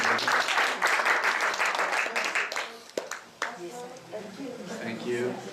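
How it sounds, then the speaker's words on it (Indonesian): Congregation applause at a church service, a dense burst of clapping mixed with voices that tapers off midway, followed by scattered claps and talking. "Berikan tepuk tangan."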